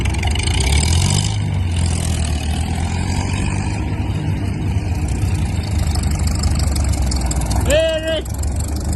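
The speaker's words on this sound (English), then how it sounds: "vintage tractor ride" A vintage tractor engine runs steadily throughout, a close, continuous low mechanical rumble with a brief high chirping whine near the end.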